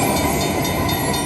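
Train sound effect from the Cash Express Luxury Line slot machine game, a steady dense rolling rumble with rail-car clatter that fills the whole short moment without a break.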